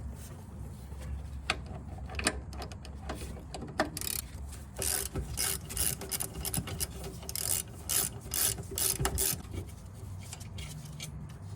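A ratchet works on the brake drum cylinder bolts of a 1983 Ford Mustang Foxbody, with bursts of quick clicking and scraping metal against a quiet garage background, pausing between strokes.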